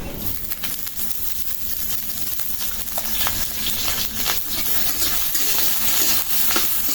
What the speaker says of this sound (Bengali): এখন একটু তেল দিয়ে দেবো সরিষার তেল